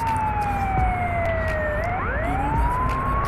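An ambulance siren sounds in a bus simulator game, a steady wailing tone that dips and then rises again as it passes nearby, loud over continuous engine and road noise.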